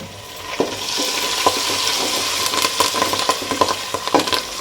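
Curry leaves sizzle steadily in hot oil while an aloo pulao is cooked, with sharp clicks and scrapes of stirring cutting through the continuous frying hiss at close range.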